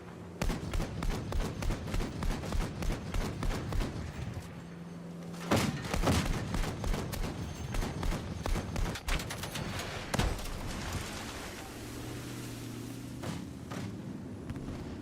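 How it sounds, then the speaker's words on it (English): Anti-aircraft cannon firing in Battlefield 6 near a bay, rapid rhythmic bursts of heavy thudding shots in repeated volleys, with a few louder blasts and a quieter stretch toward the end. "There's an AA cannon over there that's shredding me."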